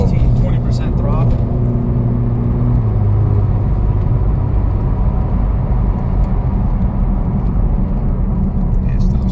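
A tuned Porsche 991 Turbo making over 650 horsepower cruises at light throttle, its engine a steady low rumble heard from inside the cabin, with a voice talking over the drone.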